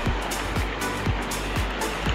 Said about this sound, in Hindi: देख लो ये पानी ऊपर से आ रहा है, पत्थर के नीचे से आता है